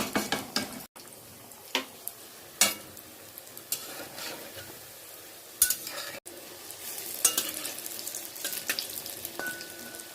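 Lentil fritters (bora) sizzle in hot oil in a Bengali kitchen pan, a soft steady frying hiss broken by sharp clinks and scrapes of a utensil against the pan.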